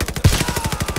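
Rapid automatic gunfire from a Call of Duty: Vanguard firefight, a fast, loud, continuous burst of shots in even rhythm.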